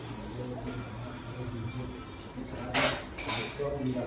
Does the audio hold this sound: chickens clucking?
no